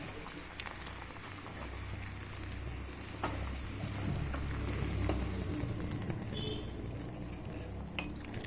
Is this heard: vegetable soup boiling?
yes